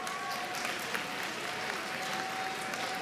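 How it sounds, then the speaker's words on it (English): Sustained applause from a crowd at a 2022 graduation ceremony, a dense even clatter of clapping hands filling the whole stretch, with a faint tone humming underneath. "Can y'all give Miss Simmons a round of applause,"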